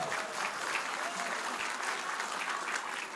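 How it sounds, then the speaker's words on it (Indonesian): Steady audience applause from a crowd at a public question-and-answer event in Pontianak, a dense continuous clapping wash lasting the whole few seconds at even loudness. "Tepuk tangan dulu dong untuk Pontianak."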